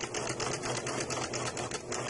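A sewing machine stitches a fabric seam for a Y-seam, a steady close rapid mechanical chatter that runs without pause and without talk.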